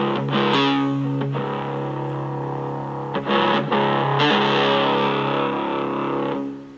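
Heavily distorted, buzzy tone from a small Melonare MA 1 portable amplifier, sustained throughout, harsh and loud, with a couple of brief breaks and changes in the middle.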